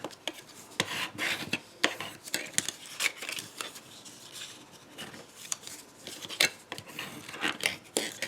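Card is folded down along scored lines for a tiny matchbox suitcase, giving close, light crinkling taps and soft rustling creases in irregular bursts.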